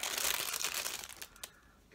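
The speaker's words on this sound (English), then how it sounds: "So they put it in this tiny little plastic bag, so it'll crinkle so nicely as I'm trying to open it." A tiny plastic bag holding a beauty sample crinkles and crackles loudly up close as it is opened, dense rustling that thins out toward the end, with no talk.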